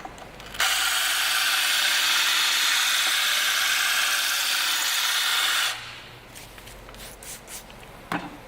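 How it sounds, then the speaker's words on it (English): Power drill boring a hole in porcelain tile, a loud steady high-pitched grinding whine for about five seconds that then stops, followed by faint clicks and handling noises. "the action is you hold the drill on an angle"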